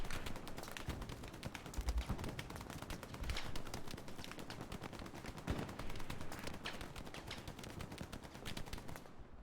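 Sustained automatic machine gun fire in the video game Hell Let Loose on the Utah Beach map, dense rapid bursts of shots running almost without pause, with heavier distant reports mixed in and no talk.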